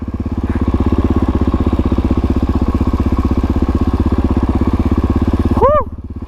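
A dirt bike engine chugs along in first gear at a low, steady, close-up throttle pulse that holds evenly throughout, with a brief vocal sound near the end.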